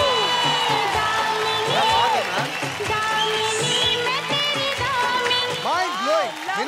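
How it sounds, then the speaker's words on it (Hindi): A television singing-show studio audience cheers, whoops and claps for a contestant's performance, a dense, loud crowd roar with a host's voice and music-like tones layered over it throughout. "मीनाक्षी जी के लिए तालियां."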